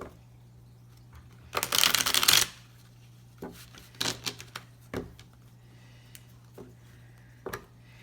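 Tarot cards shuffled in one dense riffle burst, followed by a few softer, separate card taps and flicks, close and fairly quiet with no one speaking.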